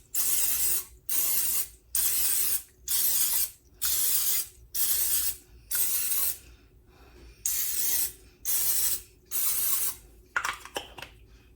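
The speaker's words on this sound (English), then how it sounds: "we're going to take our muffin pan here, and I'm going to spray my holes" Nine short bursts of cooking spray hiss into a muffin pan in a steady rhythm, each about a second long with brief pauses, followed by a few clicks and rattles at the end.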